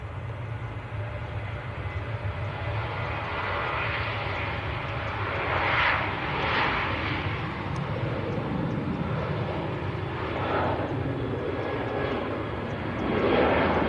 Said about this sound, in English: Okay, aircraft starting to roll.